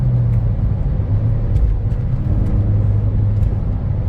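A Ford Fiesta ST with 115k miles pulls hard in fourth gear, its engine a steady, loud, low drone heard from inside the car, with no talking.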